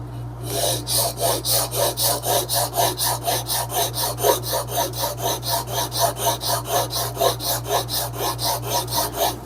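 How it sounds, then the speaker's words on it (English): A spokeshave blade clamped in a sharpening jig is rubbed back and forth on a stone in a steady, even rhythm of close, rasping strokes, about three per second, over a constant low hum. "Just go back and forth. Just like you would sharpening anything else."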